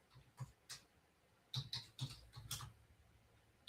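Typing on a new computer keyboard: quiet, irregular key clicks come in a short burst, then a quicker cluster of taps, faint and close with no talking.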